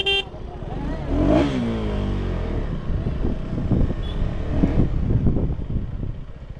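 KTM Duke 160 motorcycle riding through traffic, its engine note rising and falling near the mic amid steady road rumble and wind, with other vehicles droning around it.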